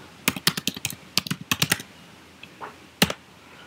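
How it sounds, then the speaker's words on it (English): Quick bursts of keystrokes on a computer keyboard, close and crisp, a fast run of taps followed by a pause and a final few presses, no talking. "So let's just type in Draftsight"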